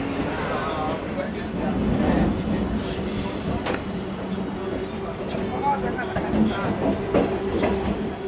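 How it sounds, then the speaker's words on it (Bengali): A Naihati to Bandel local train runs on the tracks, rumbling and rattling with squealing wheels and clickety-clack, heard from inside the carriage with voices talking in the background. "ঠিক 6:18-তে আমাদের নৈহাটি থেকে ব্যান্ডেল লোকাল ছেড়ে দিল"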